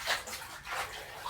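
Water sloshes and splashes in a basin as washed clothes are rinsed by hand, soft swishing surges coming in uneven waves, fairly quiet and close, with no talking.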